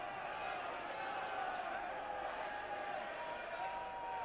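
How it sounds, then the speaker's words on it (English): Rugby stadium crowd at a 1988 Five Nations match between England and Wales, a steady distant roaring din with no breaks, fairly faint and even throughout. "That the instructions are difficult to hear by the din of this crowd."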